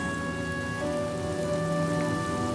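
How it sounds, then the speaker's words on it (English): Steady rain falls in a Honkai Star Rail cutscene, a dense even hiss of drops on surfaces with faint tonal music lines running through it, no voices. "The rain will accompany you, and the rain will bless you."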